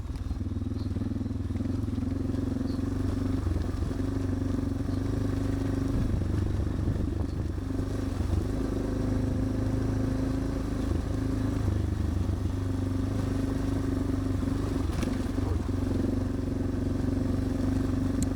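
A Suzuki motorcycle rides along on a cold morning in Spain, its engine a steady, unbroken mid-pitched drone with rumbling low tones, close and continuous throughout.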